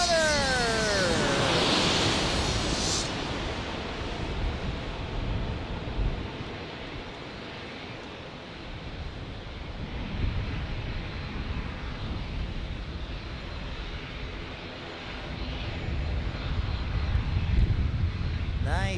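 A Boeing 787 Dreamliner landing at San Diego International Airport, with a loud jet roar and high whine early on that fades into a long, rushing rumble of engines and wind, with voices faintly in the background.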